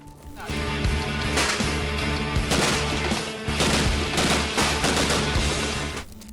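Dense, sustained bursts of automatic rifle fire crackle almost continuously, with heavy grenade explosion booms mixed in, loud and chaotic like an ongoing firefight.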